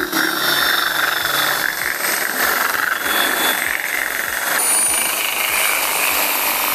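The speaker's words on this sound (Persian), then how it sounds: "شروع میکنه به سنباده کشیدن." An electric power sander runs at low speed against curved wood, a loud, steady buzzing whir close by with a faint rhythmic thump underneath and no voices.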